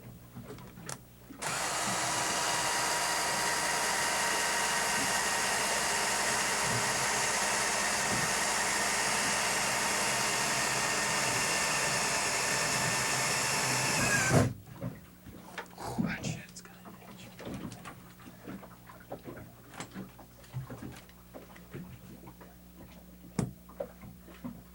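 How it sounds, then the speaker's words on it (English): A power drill whines steadily at high speed for over ten seconds drilling pilot holes in a boat cutout for marine air conditioning, then stops, followed by soft tapping and faint whispered talk. "now we're going to drill some pilot holes in this cutout here"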